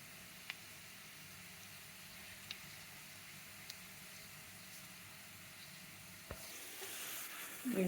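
Ingredients fry quietly in a pan while atta noodles are prepared, a soft continuous sizzle with a few faint clicks of stirring, growing louder toward the end.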